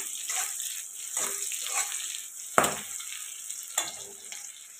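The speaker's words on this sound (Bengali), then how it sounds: "পেঁয়াজ আর কাঁচা লঙ্কা কুচিটা দিয়ে ভালো করে ভাজা করে নিতে হবে।" Chopped onion and green chilli fry in a pan in oil, a continuous close sizzle broken by a few louder clatters and scrapes as the mixture is stirred.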